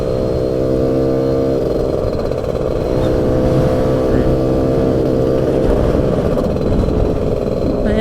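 A CASA SST 265 motorcycle engine cruises in fifth gear, holding a steady, loud drone close to the microphone with little change in pitch throughout.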